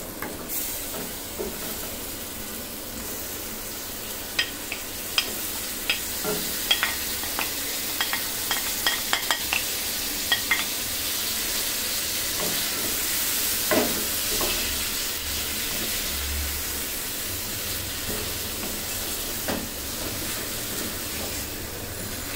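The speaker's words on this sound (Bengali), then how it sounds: "এখন ভালো মতন মাংসটার সাথে মশলাগুলো মিশিয়ে নিতে হবে নেড়ে চেড়ে" Marinated chicken stirred into frying masala in a pan for restaurant-style chicken bhuna, giving a steady loud sizzle with occasional scraping and clicking of the spoon throughout.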